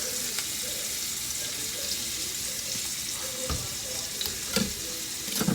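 Shrimp sizzling in a very hot pan, a steady broadband frying hiss that runs the whole time, with a few brief clinks and stirring knocks near the end and no talk.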